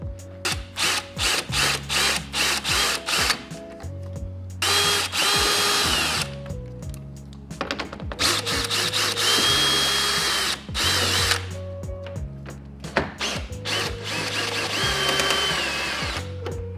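A power drill with a 10mm socket whirs in repeated short bursts removing headlight bolts on a 2015-2020 Ford F-150, starting and stopping with a steady pitched motor whine, loud and close, with no voices.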